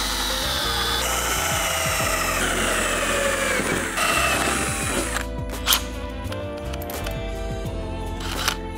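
Drill boring holes with a 1/8-inch bit during installation of an Airaid snorkel on a Toyota Tacoma, a loud, steady whine with pitch shifts as the bit cuts, followed by shorter bursts and clicks near the end.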